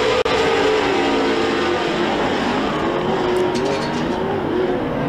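Off-road Pro 2 short course race trucks at the SBC Fairgrounds roar off together under green flag, a loud, continuous wall of revving engines with shifting pitch, close and dense throughout.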